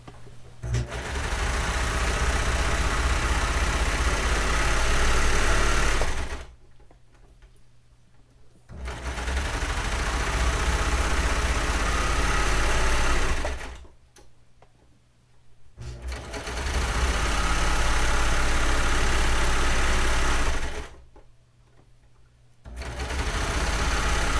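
A serger sewing machine stitching a lettuce hem runs loud and steady in three long bursts of fast whirring, separated by short quiet pauses.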